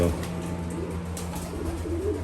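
Pigeons coo with low, rolling calls inside a loft holding a few cock birds, close and continuous under someone talking.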